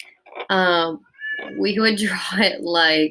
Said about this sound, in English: I'm sorry if you hear my cat meowing.